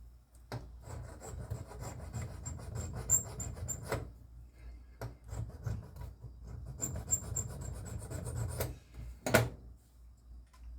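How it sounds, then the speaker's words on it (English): A metal post on a Hot Wheels Redline Barracuda toy car is filed flat by hand, producing steady rasping strokes in repeated bursts with brief pauses, close and fairly quiet. "So what we need to do is we need to file this flat"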